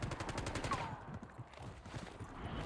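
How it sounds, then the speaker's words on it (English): Rapid gunfire crackles in a dense burst during a Warzone match, then fades into quieter scattered shots and background game noise. "There's a lot of shooting above me here."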